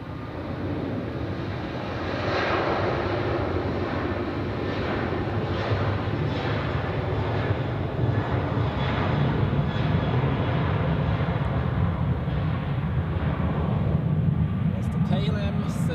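A KLM Boeing 737-700 departs Zurich airport with a steady, broad jet roar that holds throughout, heard from a spotting position at a distance.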